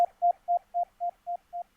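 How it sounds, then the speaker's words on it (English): A pure sine wave tone from the Serum synthesizer, in a drum and bass production, pulses in eight short, evenly spaced bursts, clean and steady, with nothing else around it. "is just a sine wave from SERUM."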